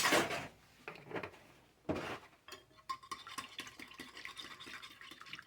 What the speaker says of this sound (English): And then I add a tablespoon of milk and mix that together.